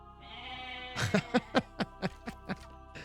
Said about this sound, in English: Are those the stolen goats? Oh, look at this. He's got a pile of them.